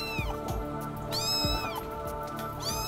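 A distressed, dehydrated and malnourished six-week-old kitten meows during a veterinary catheter attempt, giving about three high, strained cries in close succession, close and clear with faint handling noise underneath.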